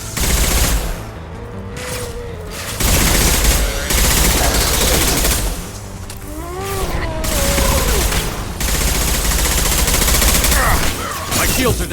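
Heavy weapon fire pounds through a Mass Effect 2 battle, sustained loud rapid bursts of gunshots running throughout with short breaks, mixed with sci-fi whooshes and effects.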